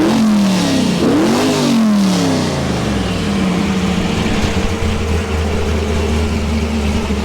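A Chevrolet Monte Carlo engine revved in a couple of loud rising and falling bursts, then settling into a steady rumbling idle, heard close by with no talking.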